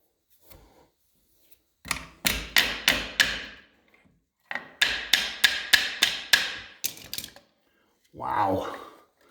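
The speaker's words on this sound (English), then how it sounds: "I gotta get a hammer." Sharp, ringing hammer blows strike rusted Ford Model A speedster brake parts in two rapid bursts of about five and seven hits, loud and close, followed by a short rustling sound at the end.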